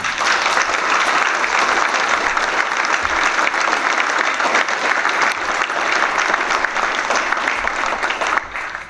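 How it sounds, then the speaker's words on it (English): Sustained applause from a luncheon crowd at a political good-government event, dense steady clapping holding loud for about nine seconds before easing slightly at the end. "let's all join in a big round of applause"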